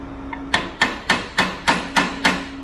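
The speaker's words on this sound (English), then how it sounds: "Try and wake it up with a hammer." A hammer strikes a stuck lift cylinder seven times in a steady, evenly spaced rhythm. Each blow is a sharp, close metallic bang that rings briefly before the next, with no voices.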